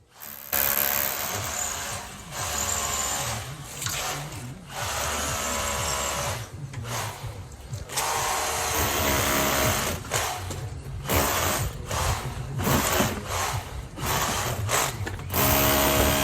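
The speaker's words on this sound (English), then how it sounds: "what I'm doing is stitch drilling and making those headers to come out much easier" A power drill whines loudly in repeated bursts, stopping and starting with brief pauses between runs as it stitch-drills through brick mortar joints.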